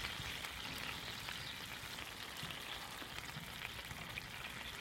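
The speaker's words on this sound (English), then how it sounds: "This is simmering" A pot of wild onion soup simmering makes a soft, continuous bubbling hiss that stays even throughout, with no voices.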